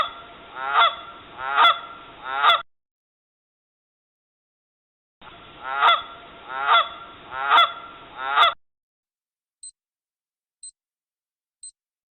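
A goose honking loudly and close in two bursts of three and four harsh calls, followed by three faint beeps.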